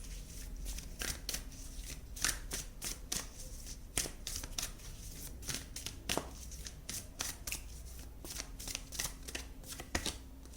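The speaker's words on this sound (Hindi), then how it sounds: "दूसरी डेक से निकालते हैं आपके लिए कार्ड्स" A second deck of tarot cards is shuffled and cards are drawn, close and quiet. Rapid riffles and crisp flicks come in short irregular bursts.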